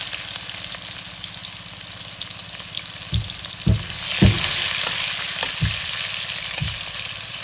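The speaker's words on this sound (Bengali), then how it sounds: "ফোড়ন দিয়ে দিলাম একটু গোটা গরম মশলা, দিয়ে দেবো পেঁয়াজ কুচি।" Whole garam masala and chopped onion frying in hot oil, a steady crackling sizzle with several distinct low thuds and scrapes of stirring partway through, close and moderately loud.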